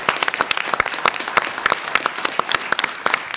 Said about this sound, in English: I think we ought to applaud for all of them.